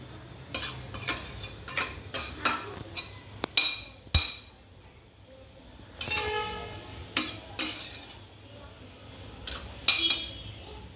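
Grated coconut turning reddish as it roasts in a pan over a medium gas flame, stirred for a karanji filling: repeated metallic scrapes and clinks of the spoon against the pan, close and irregular, with no talking.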